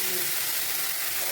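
Spices tipped into browned onions frying in hot oil, a steady loud sizzle and hiss throughout.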